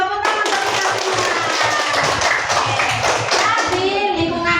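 A school class claps hands together in a quick, rhythmic burst of many small hands, steady and close, with children's voices mixed in.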